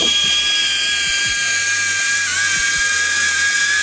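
A DJI Avata FPV drone flies with a loud, constant high-pitched whine of buzzing propellers that holds close and steady, shifting slightly in pitch, with no talking.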